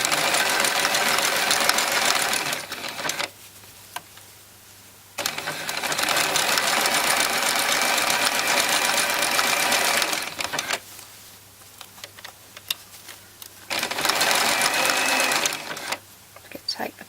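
A domestic sewing machine stitches embellishment along a singlet in three loud bursts of rapid whirring, with short quiet pauses between them; a voice speaks softly during the gaps.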